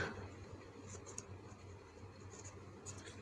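Marker or chalk writing on a board during a maths lesson, a faint continuous scratchy stroking with a few slightly sharper strokes, quiet and steady throughout with no voices.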